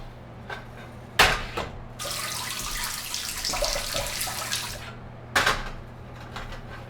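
Water runs from a tap into a sink during handwashing, a steady broadband rush lasting a few seconds, framed by brief splashy clatters before and after, with no talking.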